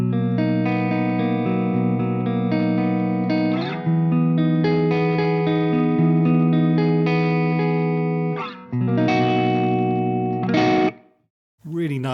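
A 2026 Ibanez AS7328 baritone guitar played with both pickups through distortion and effects rings out in sustained, rich chords. There are a few brief pauses near the end, and the sound ends in a short silence.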